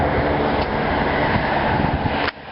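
An Amtrak GP38H-3 diesel locomotive passes close by with a loud, steady, broadband rumble and roar that cuts off abruptly at the end, with no voices.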